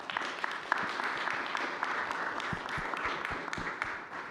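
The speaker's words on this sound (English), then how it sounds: "let's give them a final applause" A conference audience claps for the speakers at the close of an academic paper session, sustained moderate applause with scattered distinct claps running through the whole stretch.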